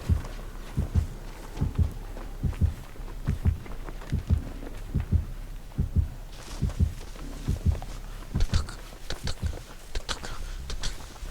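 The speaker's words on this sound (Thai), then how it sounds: "เดี๋ยวเสียงตึกตักตึกตักมาไงเนี่ย" Repeated double-thump heartbeat pulses from the horror game Dead by Daylight, a steady close throbbing rhythm with faint game ambience and a few soft sharper ticks later on, no talk.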